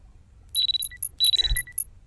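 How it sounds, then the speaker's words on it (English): A phone alarm left ringing repeats high, bright electronic chirps in quick clustered bursts, close and loud, with brief gaps between the patterns. "I am so sorry I left that alarm on the whole time."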